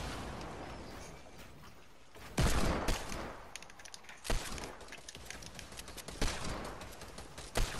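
Gunfire rattles through a Fortnite match in quick irregular bursts and sharp single cracks, loud against a quieter game backdrop.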